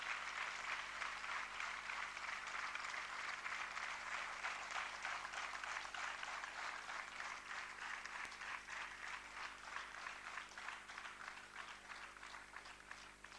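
Sustained applause from an audience at an award ceremony in Indore, welcoming a guest; dense, even clapping holds steady throughout, easing only slightly toward the end.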